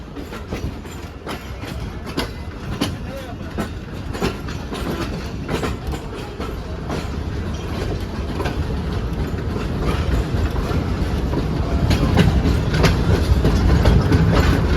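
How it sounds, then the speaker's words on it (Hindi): The Allama Iqbal Express 10DN rolls alongside platform 5 at Lahore railway station, its wheels clicking over rail joints in a steady, rising clatter as the coaches draw nearer. "लाहौर रेलवे स्टेशन का प्लेटफॉर्म नंबर 5 जिस पर प्लेस किया जा रहा है इलामा इकबाल एक्सप्रेस 10 डाउन को"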